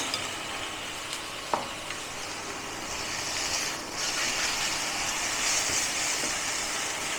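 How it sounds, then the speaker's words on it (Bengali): Minced chicken frying in a pan for coriander chicken momos, a steady broad sizzle running throughout at moderate level, with a single sharp utensil tap early on and a brief dip midway before the hiss swells slightly. "একটু চিকেনটাকে ভেজে নেবো, ঢেলা না পেকে যায়"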